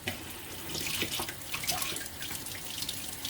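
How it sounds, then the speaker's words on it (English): Water runs softly from a kitchen tap in a steady, low stream, rinsing something off a knife or board, with no talking. "Rinse this off."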